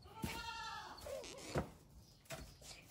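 Goats on a farm bleat several times in short wavering calls, fairly close, with a few knocks and background noise between them.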